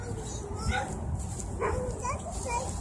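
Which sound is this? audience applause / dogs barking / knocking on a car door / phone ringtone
dogs barking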